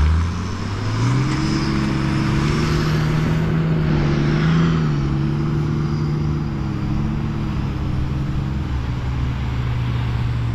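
A Nissan Patrol 4WD drives across soft beach sand, its engine a loud, close, continuous drone that rises in pitch, as if revving up under load, and then holds a steady labouring hum.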